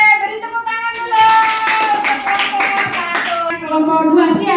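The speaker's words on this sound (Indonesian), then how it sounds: "beri tepuk tangan dulu" Schoolchildren in a classroom clap together in a brisk burst of applause, while children's voices chatter and call out over and around the clapping.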